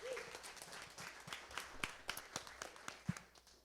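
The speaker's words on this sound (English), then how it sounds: "let's give her a big round of applause" A small audience applauding a retiring colleague at a community event, scattered, fairly faint clapping with distinct individual claps, thinning out toward the end.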